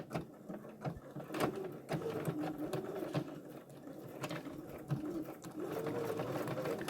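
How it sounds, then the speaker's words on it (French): A home sewing machine stitches a waistband while attaching an invisible zipper, its needle running in a steady mechanical chatter with short pauses and restarts, close and moderately loud. "Et on coud sa ceinture."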